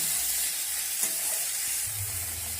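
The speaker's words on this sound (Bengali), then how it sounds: "লবণটা দিয়ে আমি আবারও নাড়াচাড়া করে নেব।" Tomatoes with a pinch of salt are stirred in a hot frying pan, a steady close sizzle with soft scraping of the spoon running throughout, no voices.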